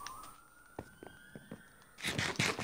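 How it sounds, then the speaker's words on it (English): A police siren wails past, a steady rising tone sweeping by at moderate distance, with a few footsteps or thuds beneath it before louder broadband noise takes over at the end. "Of course there has to be sirens going by."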